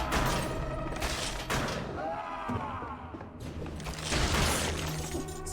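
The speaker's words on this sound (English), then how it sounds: "Oh, it's the heavy crossbow." Heavy crossbow shots from the video game Dead Cells, loud sharp impacts with shattering crashes in a busy stretch of in-game action, with other game sounds throughout.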